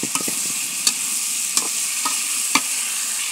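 Fried cauliflower stirred into a sizzling spice paste that has been cooked until its oil separates, for a pabda fish curry. A steady hiss runs throughout, with several sharp spoon scrapes and clacks close by and no talking.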